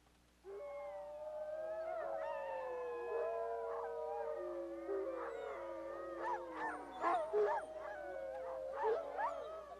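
Recorded howls of a rival wolf pack play through a parabolic speaker toward a forest: several overlapping, sustained howls rise and waver together, with short yips near the end, loud and steady with no talking.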